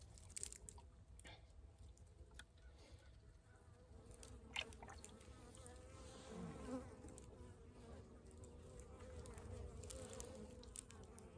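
Honey bees buzz inside a hive fitted with a frame feeder of sugar syrup: a close, continuous droning hum with small crackles and shifts in intensity.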